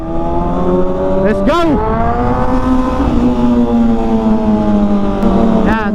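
A Kawasaki ZX-6R motorcycle engine runs close by with a loud, steady, buzzing drone that rises slightly at moments, and a voice speaks briefly over it.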